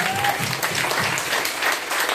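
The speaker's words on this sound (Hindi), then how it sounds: "मैं जोरदार तालियां चाहता हूँ परमात्मा के नाम के" Audience applause, loud and dense, fills a motivational business talk throughout.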